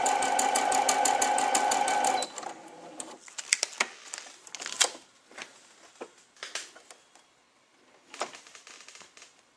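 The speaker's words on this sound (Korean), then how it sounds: "이런 식으로 예쁘게 직선 박음질이 되었습니다" A Merrylock 355 computerized quilting sewing machine runs a steady straight stitch for about two seconds, then falls to quiet, with scattered clicks and handling taps as the fabric is shifted.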